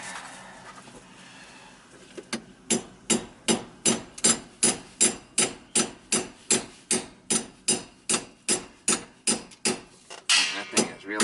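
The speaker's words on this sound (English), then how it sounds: "I should be able to hit that with a hammer and knock it out." About twenty sharp metal hammer blows on a 3/8 rod, driving out a tight outdoor sill faucet, struck at a steady, even rhythm close by and loud against a quiet background.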